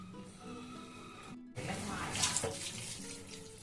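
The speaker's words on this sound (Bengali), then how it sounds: "এবারে একটু মিক্সিটা ধুয়ে একটু জল দিয়ে দেবো।" Water runs from a kitchen tap to rinse out a mixer grinder jar, a close splashing gush that starts after a short pause and swishes unevenly for a few seconds, fairly quiet overall.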